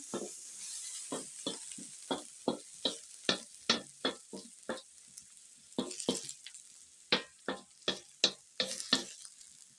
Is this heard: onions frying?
yes